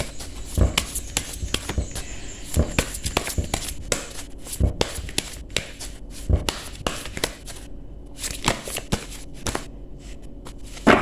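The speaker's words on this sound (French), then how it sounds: "je vais battre les cartes" A deck of playing cards is shuffled by hand, giving repeated riffling bursts and sharp card snaps spread across the whole stretch, close and clear, with no talking.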